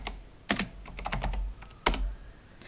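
Keys clack on a computer keyboard as a diskpart command is typed into the Windows 10 command prompt, a quick run of close, crisp taps with two louder strokes, likely the enter key.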